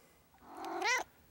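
A kitten meows once, a short rising-then-falling cry that swells near the end, heard close but fairly soft against a quiet background.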